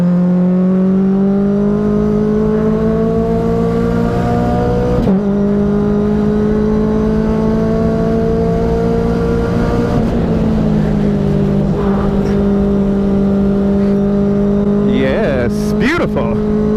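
A Mazda Global MX5 Cup race car holds a loud, steady engine drone close by from inside as it drives on track, the pitch rising and falling gently through shifts and corners.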